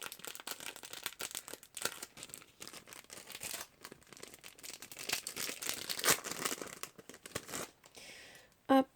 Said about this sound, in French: je vais vous le déballer